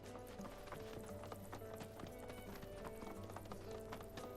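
Horse hooves clip-clop at a steady riding gait in an open-world video game, with game ambience and faint music running continuously underneath.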